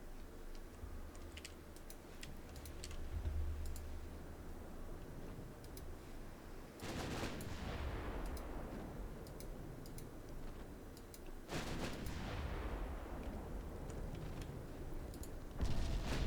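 Light cruiser main guns and secondary batteries fire at destroyers in the naval battle game Ultimate Admiral Dreadnought. Two sharp blasts with rumbling tails come at about 7 and 11.5 seconds, a third starts at the end, and faint ticking clicks run underneath.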